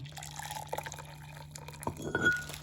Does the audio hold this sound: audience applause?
no